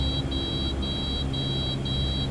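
The landing gear warning in a Cessna 152 cockpit in Microsoft Flight Simulator 2020 sounds as a loud, high electronic beep pulsing at a steady rhythm, about five beeps, over a constant engine rumble.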